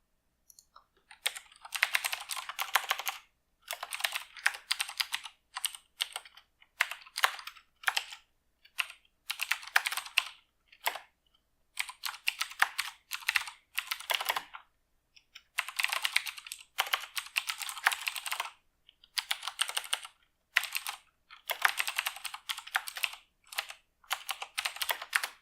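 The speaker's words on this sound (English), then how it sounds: "I'm just misspelling everything I'm typing today" Bursts of fast typing on a computer keyboard, clattering keystrokes in uneven runs separated by short pauses, close and clear with no talking.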